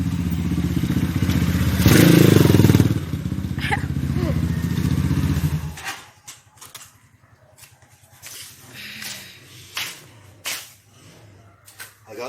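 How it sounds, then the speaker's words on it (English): A Rusi Sigma SS 250 motorcycle fitted with a flat slide racing carburettor and sports air filter runs close by, loud and rough for about six seconds with strong induction noise, then drops to a quieter, uneven idle broken by sharp knocks. "You can hear that nice little induction noise coming through the air filter."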